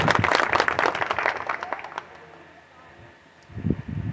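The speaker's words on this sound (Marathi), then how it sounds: "सगळ्यांनी जोरदार टाळ्या वाजवायचे।" An audience at a school inauguration ceremony in a village in India breaks into a burst of applause, dense close clapping that dies away after about two seconds, then a short rustle of movement.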